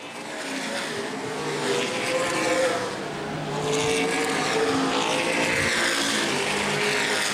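Stock cars race around a dirt speedway during an ABC Stock Cars A feature at Angola Motorsport Speedway, a loud continuous roar of several engines with rising and falling pitch as the cars pass and circle the track.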